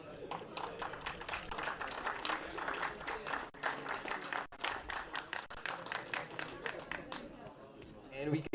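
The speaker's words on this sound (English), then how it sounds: "round of applause" Crowd applause and clapping at a kart race podium ceremony, a sustained patter of hands under an announcer's voice over a PA, fading near the end.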